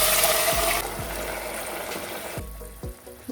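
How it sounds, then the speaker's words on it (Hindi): Water is poured into a pan of chickpeas and spices for chole gravy, with a loud rushing pour fading to gentle sizzling and bubbling, followed by a few soft thumps. "मैं ये पूरा पानी ऐड कर रही हूँ।"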